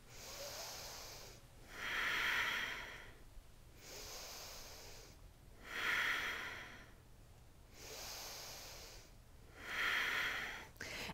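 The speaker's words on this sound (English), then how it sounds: "breathe with me" Slow, deep breaths during a power yoga flow, three long inhale-exhale cycles in a steady rhythm, close and airy, with a faint low hum underneath and no talking.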